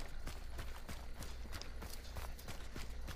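Horses in the Hunt: Showdown video game give off a quick run of hoof clip-clops over a constant low game ambience, fairly quiet and close, with no talking.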